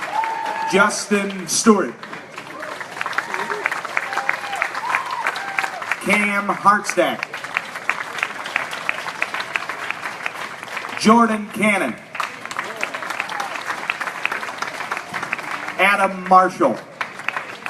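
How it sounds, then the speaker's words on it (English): An audience at the 2016 Iowa Auctioneers Association bid calling contest claps steadily for the contestants. The applause runs underneath while an announcer calls out names at intervals. "Please give all the contestants a round of applause"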